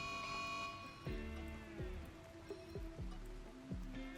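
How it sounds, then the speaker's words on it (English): Rain falls in the colony-building game Rimworld, a soft steady wash of droplets under sustained musical tones and a few dull thumps, with no talk. "oh, of course, now it rains"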